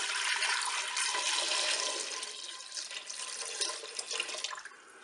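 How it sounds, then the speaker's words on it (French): Water poured from a jug into a Cookeo multicooker to cover eggs for hard-boiling, a steady close rushing pour that gradually thins and trickles off toward the end, with no voices. "je vais verser l'eau pour recouvrir mes œufs"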